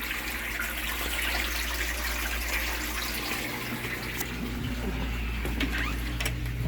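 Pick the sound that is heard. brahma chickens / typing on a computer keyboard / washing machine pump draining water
washing machine pump draining water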